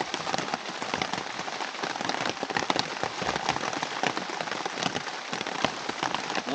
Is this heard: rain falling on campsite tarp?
yes